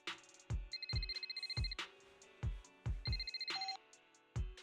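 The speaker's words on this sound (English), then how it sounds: "the phone rings" A video game phone rings with an incoming video call: repeated electronic ring tones over rhythmic low thumping music, fairly faint.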